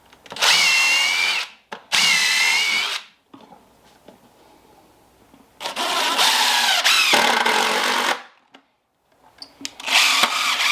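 A power drill drives deck screws into wood for a homemade backhoe hauler, in three loud whirring bursts of a few seconds each separated by quiet pauses, close up with no talk.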